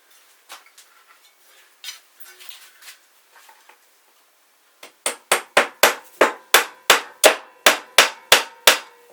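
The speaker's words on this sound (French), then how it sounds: "Donc alors le marteau, il se trouve là." Hammer head of a Chinese army WJQ-308 folding shovel tested outdoors, first light scattered taps, then a steady run of about a dozen loud, sharp metallic blows in even rhythm.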